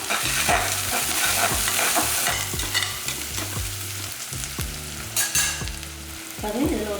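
Shallots, curry leaves and crushed garlic fry in hot oil for a mutton curry, giving a steady loud sizzle under repeated scraping stirs of a spatula against the pan, with no voices.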